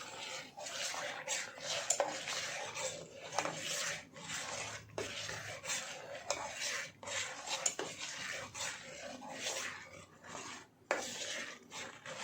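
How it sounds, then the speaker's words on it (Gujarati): Milk being stirred in a metal pot with vinegar and water added, for homemade rasmalai: steady scraping and clinking of a spoon against the pot, continuous and close, with no talk. "હવે વિનેગર ને પાણી જે આપણે લીધેલું એને હવે ધીમે ધીમે મિક્સ કરીશું અને એને હલાવતું"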